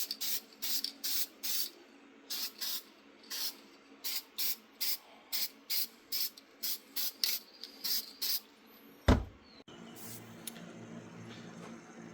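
An aerosol spray can paints brake caliper parts from a 1988 Yugo GVX in a rapid series of short, even hissing bursts, ending with a single dull knock and a softer hiss.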